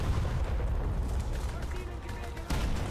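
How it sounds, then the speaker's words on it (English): Loud, dense battle noise from a WWI video game, with booming blasts and gunfire rumbling throughout and a sharp anti-tank grenade explosion near the end, while someone shouts over it. "Anti-tank grenade!"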